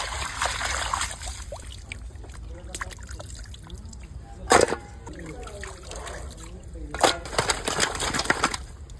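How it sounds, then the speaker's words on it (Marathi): Cleaned tilapia is rinsed in water, giving soft trickles and splashes with a few louder sloshes. Background noise runs throughout. "पण एक पाण्याने परत धुवून घेऊ"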